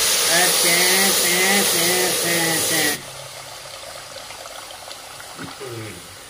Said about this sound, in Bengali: সরষার জল, এই দিলাম সরষার জল